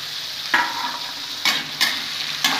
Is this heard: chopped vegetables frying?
yes